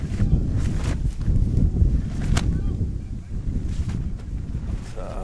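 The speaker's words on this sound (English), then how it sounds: "Quite a windy over here." Gusty wind buffets the microphone at an outdoor cricket ground in Chicago, a heavy low rumble rising and falling throughout, with faint background activity and no clear talk.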